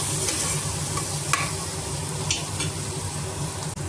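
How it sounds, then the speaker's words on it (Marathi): A spoon scrapes and stirs mutton curry masala in a sizzling pan, with a constant frying hiss and a few sharp clinks against the metal, close and clear. "आता मी ह्याला परत हलवणार."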